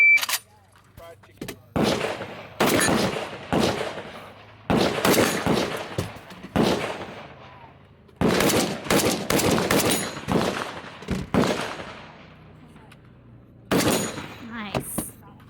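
Rapid rifle fire from 5.56 AK and AR-15 carbines during a carbine shooting match, loud sharp shots in quick bursts and strings separated by short pauses, close to the shooter with outdoor echo.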